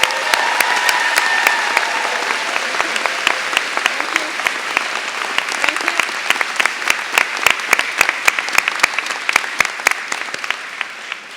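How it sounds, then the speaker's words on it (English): Sustained audience applause at a graduate programs ceremony for a public policy school, a dense wash of many hands clapping steadily for over ten seconds, with some sharper individual claps standing out near the end and faint voices underneath. "So let's hear in general a hand of applause for the faculty."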